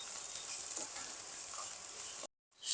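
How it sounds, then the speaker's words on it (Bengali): Soybean chunks fry in oil in a wok, making a steady hiss of sizzling for a couple of seconds before cutting off abruptly. "সয়াবিনটাকে আমি একটু লাল লাল করে ভেজে নিয়েছি"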